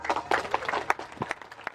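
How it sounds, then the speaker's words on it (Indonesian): Scattered audience clapping at a community recess meeting in Krebet village, Gumukmas, Jember, heard as a few uneven bursts of hand claps at moderate distance, fairly quiet and brief. "Jangan tepuk tangan dulu."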